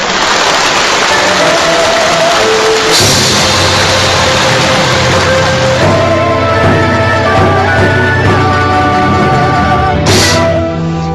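Audience applause at a Chinese Yue opera concert in Shengzhou in 2006: dense clapping fills the first few seconds, then stops as instrumental opera accompaniment begins and carries on.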